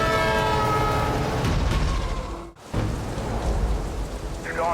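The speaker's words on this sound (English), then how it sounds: "We got trains coming." A train approaches on the Trans-Canada line, rumbling steadily with a horn tone sounding over the noise, the sound briefly dropping out before the rolling resumes.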